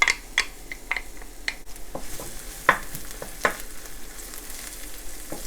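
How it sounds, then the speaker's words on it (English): Garlic and onion sizzle in hot canola oil in a wok, a steady close hiss broken by a few sharp clicks of stirring, with no talk. "When the oil is hot enough, garlic and onion going in."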